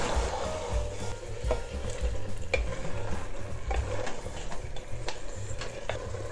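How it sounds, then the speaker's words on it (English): Spices, tomatoes and whisked yogurt stirred in a pot for an Old Delhi-style lamb stew, a steady scraping stir over a continuous close sizzle with sharp ticking clinks of the spoon against the pot. "Mix, mix, mix until no yogurt bits are seen."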